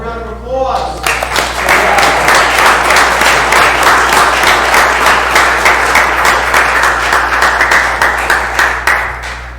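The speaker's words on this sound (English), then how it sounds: "All right, another round of applause." An audience at a committee meeting applauds, dense steady clapping that begins after a spoken line, carries on for several seconds, and fades gradually.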